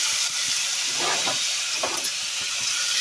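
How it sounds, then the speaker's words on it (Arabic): Chopped onions hit hot ghee in a pan, giving a steady, close, bright sizzle with small crackles and pops running through it. "السمنه قدحت معايا، هنزل بالبصل"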